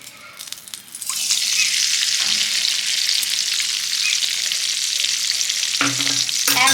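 Hair oil mixture hitting a hot wok and sizzling loudly, a sudden burst of steady broadband crackle that holds close and continuous, with a few brief stirring clinks near the end.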